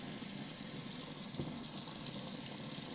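Water streams steadily from a tap to rinse a Rolex watch, a constant close hiss of running water with no speech.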